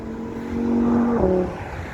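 A car swells up close, sweeps past with a falling engine note and fades away over steady background noise, with no talk.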